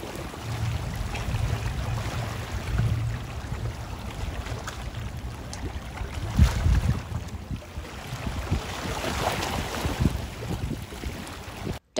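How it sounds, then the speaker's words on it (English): Waves lapping against the shore in Cape Ann harbor, a steady wash of water with gusts of wind buffeting the microphone, continuous and fairly close, with no talking. "the sights and sounds of the waves lapping against the shore in the Cape"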